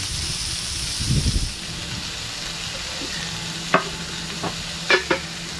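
Food sizzling on a Blackstone flat-top griddle at an RV, a steady frying hiss with a louder burst early on and a few sharp clicks and taps near the end, no talking.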